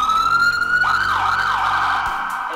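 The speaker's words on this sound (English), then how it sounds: "and that activates the sirens" Siren on a custom Jeep Gladiator 4x4 police car, a loud close electronic wail that sweeps up and down in pitch, with a few low thuds near the end.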